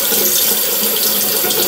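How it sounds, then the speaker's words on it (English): Warm water pours steadily from a bathroom sink faucet during a nighttime skincare routine, a loud continuous close rush with no talking over it. "And I'm gonna get the water on."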